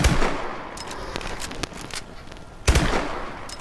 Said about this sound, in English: this is the Hurried, how fast the Hurried will fire